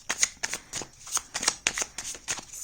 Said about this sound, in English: But I'm going to pull out cards.